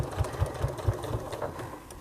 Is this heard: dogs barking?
no